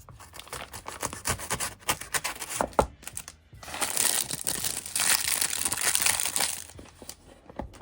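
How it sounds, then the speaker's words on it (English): A Spyderco Sage 6 knife slices open a package, giving close, continuous crinkling and tearing of packaging that builds to a denser, louder stretch midway. "we'll go ahead and cut into this guy. Doing the honors is the Spyderco Sage 6"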